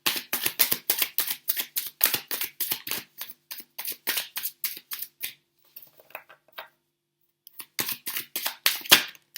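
Tarot cards are shuffled and drawn by hand: quick, crisp bursts of riffling and flicking in rapid succession, a short pause with a few soft slides, then more brisk shuffling, close and clear.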